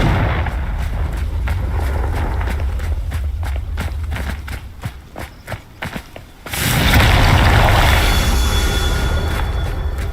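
Confringo blasting spell in Hogwarts Legacy: a run of quick rhythmic thuds gives way to a sudden loud, sustained roaring blast that fills the rest of the moment.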